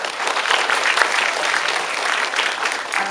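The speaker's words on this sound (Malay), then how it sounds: "tepukan bagi mereka." Steady applause from an audience at a university or campus programme, continuous and fairly loud clapping for about three seconds with no voices over it.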